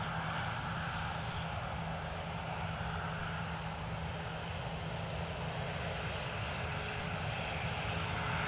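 A plane taking off from runway 10 at Dublin Airport, heard as a steady, distant engine roar with a faint constant hum running underneath, no talking.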